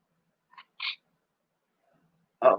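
A house cat, playing around a big fan in a basement, gives a couple of short, soft meow-like calls, then a louder, fuller cry at the very end, with quiet pauses in between.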